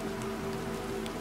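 Steady rain in the video game The Planet Crafter, a constant dense hiss of falling water over a low hum, brief and without talk.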